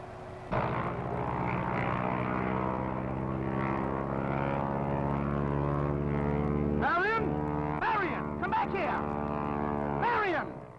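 A propeller airplane drones loudly and steadily close by, a rich buzzing engine tone that holds for the whole stretch while people talk over it.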